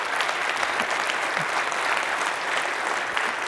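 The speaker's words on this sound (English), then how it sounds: "So if we can just give my mom a round of applause." A large audience applauds steadily and evenly throughout, a dense wash of clapping at a civic State of the City address, with no break or voice standing out above it.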